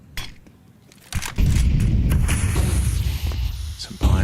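A sniper rifle cracks sharply in a Counter-Strike esports match, followed by a noisy burst of game sound. Faint commentary runs beneath it.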